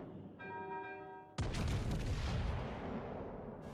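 A warship's big turret guns fire in a naval combat game as the Kraken, after a short ringing tone, lets loose a sudden heavy boom that rolls on as a long, loud, rumbling tail.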